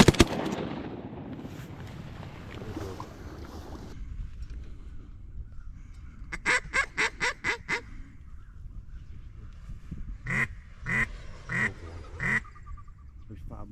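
Mallard ducks quack during a duck hunt, short rhythmic calls in two quick series that sound like a caller, over an outdoor background after an early blast.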